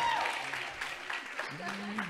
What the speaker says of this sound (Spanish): otro fuerte aplauso para ellas que lo hicieron con todas las ganas